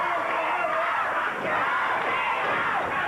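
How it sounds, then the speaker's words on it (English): Arena crowd at a 1986 CWA Memphis professional wrestling match roars and yells continuously, a dense, loud wall of cheering voices that holds steady throughout. "Crowd getting into the match."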